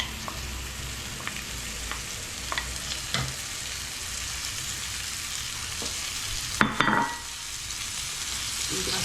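Onion and small pieces of chicken escalope frying in a pan, a steady close sizzle with a few light clicks and a short clatter of stirring near the end.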